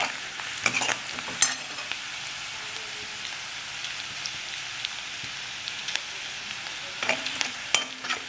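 Onions with cumin and mustard seeds frying in a pan, a steady close sizzle broken by spoon-scraping stirs and sharp spattering pops, no voices.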